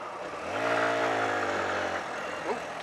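A car engine labours in fifth gear when it should be in third, giving a low, droning hum that swells for about a second and a half, then drops back to a quieter running noise.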